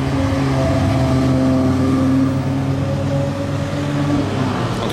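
A Ferrari 812 Competizione's V12 holds a steady, droning hum on a Grand Prix start-finish straight, with smooth engine harmonics that rise slightly and then ease, nearby and continuous.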